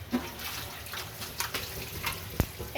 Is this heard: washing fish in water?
yes